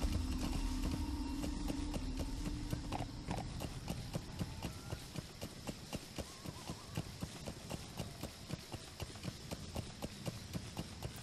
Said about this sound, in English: surprised they didn't see a massive horse.